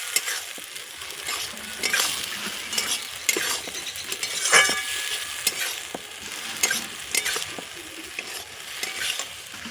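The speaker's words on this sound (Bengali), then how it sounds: "দেখো একটু ভালো করে কষে নেব" Mustard masala with figs and taro stolons stir-fries in a pan with a steady, close sizzle, while the utensil scrapes and clinks against the pan continuously.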